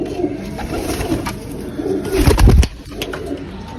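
Pigeons coo close by in a loft, soft throaty calls repeating over a busy background, with a burst of wing flapping or scuffling partway through.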